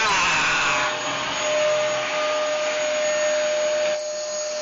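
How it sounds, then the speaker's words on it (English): Vacuum cleaner running steadily indoors, a loud continuous whine with a steady tone that dips slightly near the end, with no talking over it. "There comes the vacuum cleaner."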